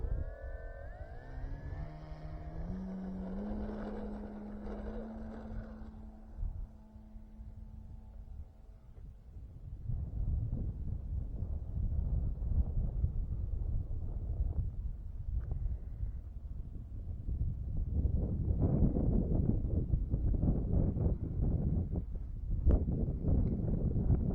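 A petrol-engined RC trainer model airplane runs at full throttle, a loud sustained whine that rises in pitch at the start, then gives way to a rough, wind-buffeted roar that swells again toward the end.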